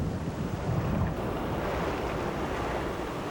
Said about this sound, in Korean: 동해바다가 거대한 산처럼 실어나르는 파도